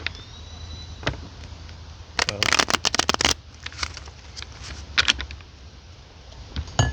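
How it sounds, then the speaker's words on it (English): Tarot cards are shuffled by hand in a few quick riffling bursts, close and crisp, with a dense flurry in the middle and lighter shuffles after, over a low room hum. "We'll shuffle them up good now."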